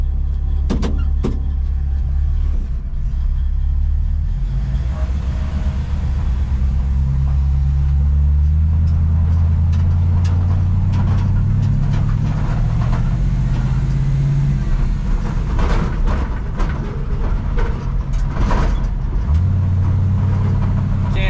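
The engine of a 1954 Chevy cabover truck rumbles steadily at close range, a loud low idle that holds throughout with a few faint clicks and voices in the background.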